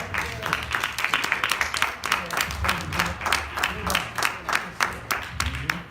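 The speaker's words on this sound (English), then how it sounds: "let's clap our hands" An audience at a Sabbath class on holistic veganism claps steadily for several seconds, a dense, close patter of many hands with voices mixed in underneath.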